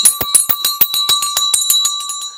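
A market closing bell rings in a rapid, steady series of about a dozen bright metallic strikes, loud and close, alone without talk.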